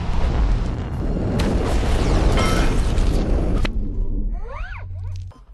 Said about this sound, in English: I just brought us some heavy artillery!